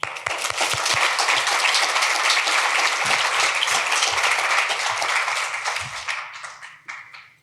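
Audience applause welcoming Collier County Manager Amy Patterson, a full sustained burst of many hands clapping indoors that tapers off over the last couple of seconds.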